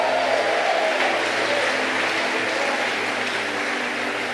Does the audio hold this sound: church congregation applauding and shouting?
yes